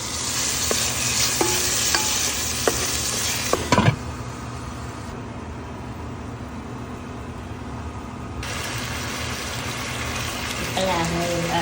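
Chicken curry frying in a pan is stirred, with sizzling, scraping and clinking of a spoon for several seconds, then a quieter simmer before more stirring at the end.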